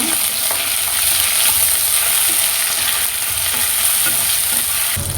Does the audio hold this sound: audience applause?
no